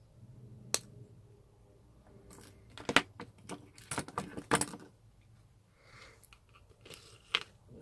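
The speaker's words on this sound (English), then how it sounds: "Cut these wires" Wire cutters snip jewelry wire for wire-wrapped earrings, giving sharp, close clicks scattered irregularly among quiet handling rustles, with several snips clustered in the middle.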